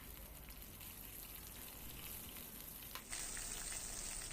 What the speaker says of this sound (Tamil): இப்போ மிளகாவும் வதங்கிருச்சு